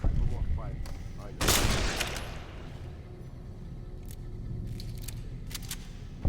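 BB gun firing in Fallout New Vegas: a sharp close burst near the start, then several faint quick snapping shots spaced apart over a low game background, with a voice speaking early on.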